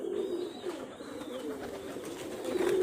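Giribaj high-flyer pigeons, a local Rajshahi breed, coo softly in a few low, throaty, rolling calls that overlap gently at a modest distance.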